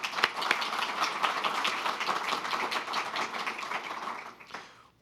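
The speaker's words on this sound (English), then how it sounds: "let's just give them a quick round of applause" An audience at an infrastructure panel event gives a short round of applause, dense clapping that holds steady and then tapers off to silence within a few seconds.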